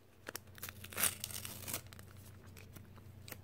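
A mail package being opened carefully by hand, with quiet paper tearing and crinkling, including a brief sharper rip, under a faint steady background hum.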